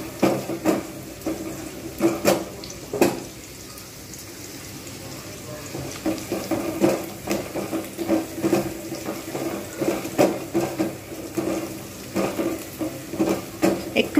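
Paneer bhurji ingredients frying gently on low heat in a pan, with soft sizzling broken by repeated scraping stirs at an irregular rhythm, close by, with some faint background voice.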